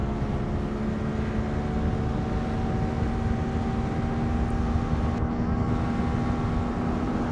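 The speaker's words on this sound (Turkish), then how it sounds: "İyi hızlanıyor makina." QJ Motor SRV 550 ST motorcycle accelerating up a hill, a steady, continuous engine drone with wind rush that holds at an even level throughout.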